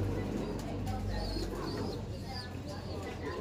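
A Jellema x Janssen pigeon coos softly in repeated short phrases, close by, under a steady low hum, while a person talks nearby.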